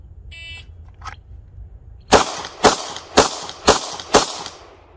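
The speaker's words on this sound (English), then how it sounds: "So 5 shots in 5 seconds from a concealed holster." After a short electronic timer beep, five loud, sharp pistol shots ring out in an even rhythm about half a second apart, fired after a draw from a concealed holster.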